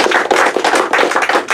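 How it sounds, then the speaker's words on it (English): An audience claps after a talk on father involvement and children's health, a loud, fairly brief burst of many hands with an uneven, pulsing rhythm and no talking over it. "another round of applause for Jess."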